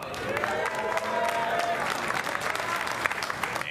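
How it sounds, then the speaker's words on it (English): A crowd at an IPL4 StarCraft 2 esports tournament cheers and applauds through a player introduction, with a steady, dense roar of clapping and shouts throughout and a voice faintly underneath. "Give a cheer for PuMa"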